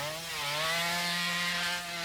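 A chainsaw in The Texas Chain Saw Massacre video game runs at a steady high-revving buzz, loud and continuous with a slight rise and fall in intensity.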